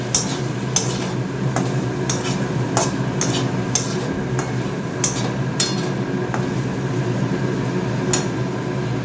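Spice masala stirred and fried in oil in a home kitchen pan, with a steady broadband sizzle under repeated sharp scrapes and taps of a spoon against the pan, fairly close and continuous, no talking.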